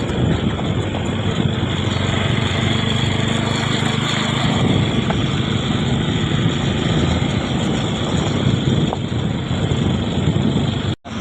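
A steady motorcycle engine drone with heavy wind rush continues throughout while riding on the Mumbai–Ahmedabad highway, before cutting out abruptly at the end.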